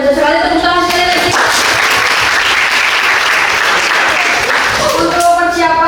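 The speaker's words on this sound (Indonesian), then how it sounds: "Tepuk tangan sekali lagi" Loud applause from a room of training participants, rising sharply and holding steady for several seconds before fading, with a voice talking before and after it.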